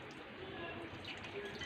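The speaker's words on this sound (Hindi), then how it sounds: "अब मैं इसमें ऐड कर रही हूँ पानी।" Water poured into a dry chicken marinade mix for fried chicken necks, about four tablespoons, giving a soft, steady close trickle with faint dripping and no talk.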